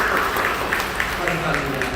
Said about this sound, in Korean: 우리 사랑하며 격려하며 박수해 주시죠.